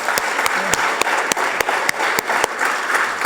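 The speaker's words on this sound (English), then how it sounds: "Please give him one more round of applause." An indoor retreat audience claps steadily for a speaker, a dense wash of applause with sharper individual claps standing out, continuing loud and close throughout.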